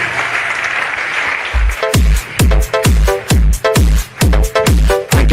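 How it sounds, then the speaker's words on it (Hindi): A seminar audience gives a burst of forceful applause after a murmuring hall, with loud, regular, unison claps at a steady rhythm, close and strong. "बजाओ फिर एक जोरदार तालियां।"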